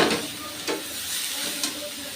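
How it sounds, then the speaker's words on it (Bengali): Leafy greens fry with slit green chilies in a pan, a steady sizzling hiss broken by three brief stirring scrapes, close and moderately loud with no voices. "এবার দিয়ে দিচ্ছি আমি চেরা কাঁচা লঙ্কা।"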